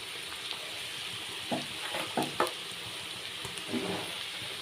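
Spices, including black pepper, cloves, cardamom, cinnamon, cumin, coriander and dried chili, are added to broiler chicken and pumpkin in a pan. The result is a quiet, steady sizzle broken by a few soft stirring scrapes and pops, with no talking.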